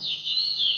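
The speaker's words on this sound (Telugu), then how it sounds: "పక్షులు కిలకిలమన్నాయి" A short, clear, high-pitched bird chirping trill, close by and on its own against silence.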